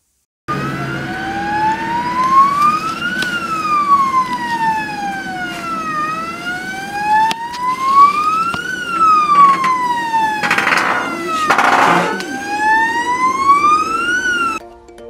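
A loud electronic alarm siren in a broiler chicken house wails up and down steadily in repeated sweeping cycles, close by, with bursts of hissing noise near the end.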